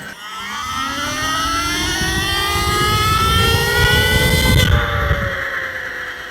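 2025 Surron Ultra Bee electric dirt bike ridden in sport mode, a rising motor whine with layered tones climbing steadily over road and wind rumble, then easing off near the end.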